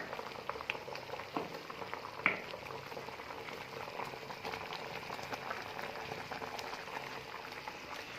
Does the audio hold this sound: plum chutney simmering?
yes